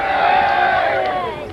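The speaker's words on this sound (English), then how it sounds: "Hardly surprising the crowds cheer the Saxons." A crowd at a Saxon-versus-Norman battle reenactment cheers and shouts, a loud, sustained roar of many voices lasting under two seconds.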